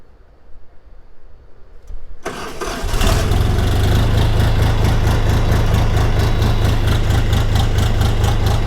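DTZ 5244 HP mini tractor diesel engine cranks briefly after a quiet moment, then catches and runs at a loud, steady idle with a deep rhythmic throb close by.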